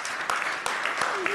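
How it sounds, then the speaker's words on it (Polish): Brief, fairly quiet applause from the audience at a local government forum, a short patter of clapping hands mixed with a few voices in the room. "Zawsze dostaję za to brawa"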